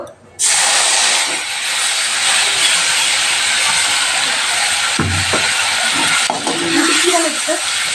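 Masala paste dropped into hot oil in a pan bursts into a loud, sustained sizzling hiss that starts abruptly and continues steadily, with brief voices and kitchen clatter faintly underneath.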